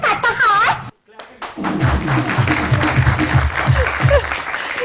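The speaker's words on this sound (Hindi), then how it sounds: "उधर दरवाजा खटखटाता है।" After a brief spoken line and a short pause, someone knocks on a door in a steady run of quick, dull thuds lasting several seconds.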